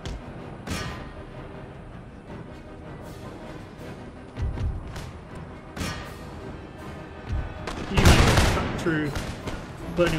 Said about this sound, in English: Burning militia, they're shooting my Gurkhas, they might make them rout.